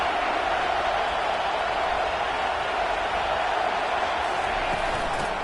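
Football stadium crowd roaring on third down at an Alabama game, a dense, steady wall of cheering and shouting held loud and unbroken throughout.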